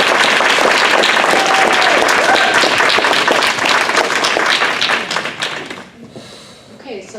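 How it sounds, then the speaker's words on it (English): An audience at a women-in-technology leadership panel session applauds loudly and steadily for several seconds. The clapping then thins out and fades, and a few voices come in as it ends. "let's have a big thank you and round of applause"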